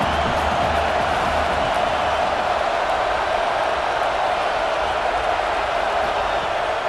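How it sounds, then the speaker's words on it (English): Steady, loud stadium crowd roar from a college football video game, Penn State versus Iowa, holding an even wall of cheering noise for the whole stretch with no voices standing out. "The crowd getting behind this defense as they try to get a stop in the red zone."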